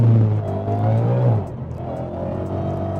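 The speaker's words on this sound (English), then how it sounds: "Yep, you heard the wheels spinning there." An 800 bhp supercharged Clive Sutton CS800 Mustang revs hard with a loud, close engine roar that drops off abruptly, the wheels spinning on a windy day.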